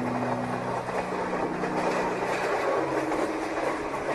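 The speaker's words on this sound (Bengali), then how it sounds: "ট্রেন চলেছে যেন ঢিকির ঢিকির করে" A train runs steadily as a background sound effect in a spoken ghost story, a constant quiet rumble and rattle with no break and no voices.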